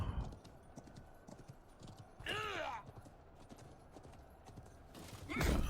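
Horse hooves clip-clop steadily as a mount is ridden across a battlefield in Conqueror's Blade, with two sharp whinnies breaking through, one midway and one near the end, and no talk over it.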